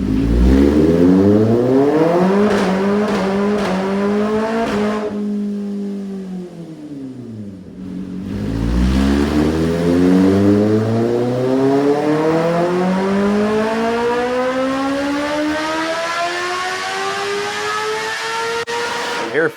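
A 2026 Kawasaki ZX-10R sport bike engine revving hard on a dyno with a DNA high-flow air filter, loud rising wails climbing through the gears, a brief drop and pause, then another long sustained climb.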